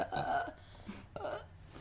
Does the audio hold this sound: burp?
yes